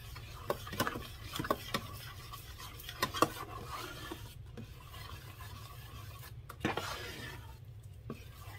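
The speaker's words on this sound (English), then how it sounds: "Because it's on high heat, you want to keep stirring it." A spoon scrapes and stirs chocolate raspberry sauce in a pot over high heat, giving irregular clinks and rasps against the pot, close and fairly quiet, with no talk.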